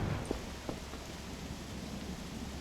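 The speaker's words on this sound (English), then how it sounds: "Sounds like it's raining." Steady rain with a low rumbling storm in the video game Voices of the Void, a soft continuous hiss of falling drops with a couple of faint knocks, quiet and unbroken by speech.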